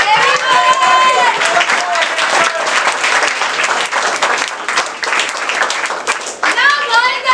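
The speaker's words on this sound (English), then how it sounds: "big round of applause for Miss Kiran" An audience at an English-language school talent show claps loudly and steadily for a dancer, with continuous applause, a few cheers and children's voices mixed in throughout.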